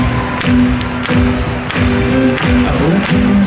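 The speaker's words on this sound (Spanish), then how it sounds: "¡Dame palmas, leones!" A live concert audience claps along in time, with sharp rhythmic claps about every half second over loud band music and crowd noise at a festival show.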